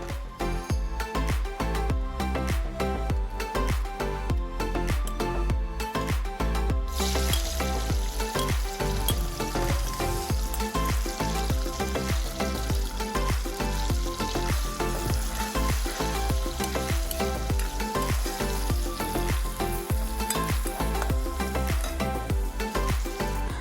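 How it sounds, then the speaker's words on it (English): Seasoning frying in hot oil in an outdoor Jamaican pot for salt mackerel, a loud, dense, continuous sizzle that holds steady for the whole stretch and brightens noticeably after the first few seconds. "So I'm going to go ahead and add some oil. Then followed by the seasoning once the oil hot."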